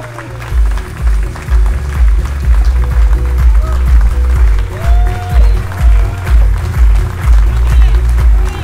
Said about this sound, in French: Applaudissements pour Pat Lawless, s'il vous plaît.